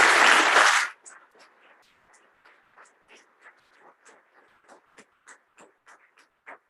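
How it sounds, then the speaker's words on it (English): Audience applause at the close of a distinguished lecture at an education foundation event; a loud burst of clapping cuts off after about a second, followed by scattered faint taps and shuffles in a quiet hall. "may we have a huge round of applause"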